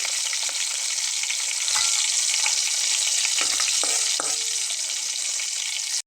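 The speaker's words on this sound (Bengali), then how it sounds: "এখানে কিন্তু ভাজা হয়ে গেছে পেঁয়াজটা এবং তেজপাতাটা কাঁচামরিচটাও কিন্তু ভাজা ভাজা হয়ে যাচ্ছে" Onion, bay leaf and green chili frying in oil in a pan for a spiced potato dish, a loud continuous sizzle with a few soft stirring scrapes and no talk.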